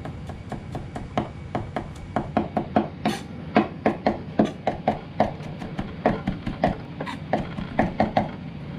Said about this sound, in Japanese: これで生姜のみじん切り